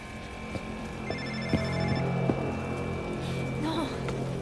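Phone ringing out during an unanswered call to Brent, a repeating electronic ring tone over a quiet background with a few soft knocks.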